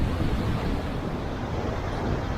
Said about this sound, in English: As you can see, the water come up and the waves are big.